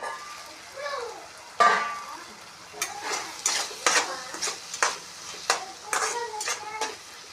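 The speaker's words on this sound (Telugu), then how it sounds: "ఇప్పుడు మూత పెట్టేసి ఒక ఐదు నిమిషాలు కుక్ చేసుకుంటే దోసకాయ అండ్ రొయ్యల కర్రీ అయితే రెడీ అయిపోయినట్టే" Dry prawns and cucumber curry cooks in a pan, with a spoon stirring and scraping in repeated short bursts over a soft sizzle, fairly close and without talk.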